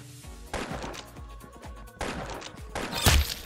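Carbine gunshots in the Roblox shooter Arsenal ring out in sharp bursts: a cluster of close, loud shots near the start, another after a brief pause, and a final heavy crack near the end.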